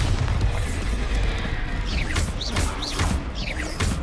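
Bombarda spell blasts in a Hogwarts Legacy arena battle on the South Coast, a dense, loud rumbling field of booms and crashes with brief whooshing spell effects cutting through at steady intervals.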